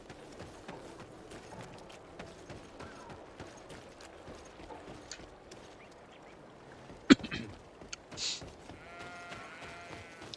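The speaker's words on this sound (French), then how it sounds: "Il y a des petits moutons." Sheep bleat in the video game GreedFall, a few faint calls over quiet ambient game sounds, with a louder bleat near the end.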